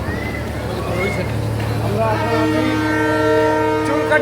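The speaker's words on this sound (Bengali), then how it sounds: "ট্রেন চলতে চলতে আমরা কিন্তু সামনে একটা স্টেশনে চলে আসছি" A passenger train running toward a station in the Sundarbans region, a steady low rumble with a sustained horn-like tone emerging midway, loud and close.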